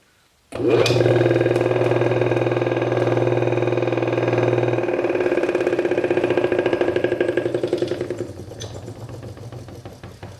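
An old GE electric motor grinder spinning an oblong, out-of-round wheel: a sudden start into a steady loud hum with a pulsing vibration rattle, then winding down near the end.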